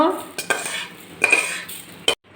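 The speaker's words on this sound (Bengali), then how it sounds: "আমি একটা পাত্রের ভিতরে চালগুলো ঢালে নিচ্ছি ঠান্ডা করার জন্য" Roasted Gobindobhog rice poured from a pan into a bowl to cool, giving a near, dry rattling patter with a few sharp clinks of metal on the bowl's rim, in a quiet kitchen with no talk.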